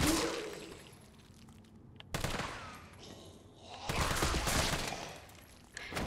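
Gunfire in the video game Resident Evil 3, with sharp bursts of shots separated by quieter gaps; a loud cluster comes early, another around the middle and a final burst near the end.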